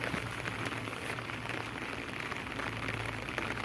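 Steady, dense patter of rain falling nearby during a fishing trip, a constant hiss with no break and no voices.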